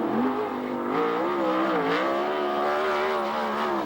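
A 360 sprint race car engine roars around a dirt oval at Ventura, California during qualifying laps, its high-pitched revving note rising and falling steadily as the car works through the turns, loud and close throughout.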